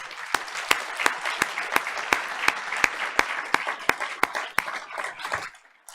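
An audience at a school board of education meeting in a hall applauds in a dense, even wash of clapping that holds for several seconds and then fades out, with sharp periodic clicks running through it.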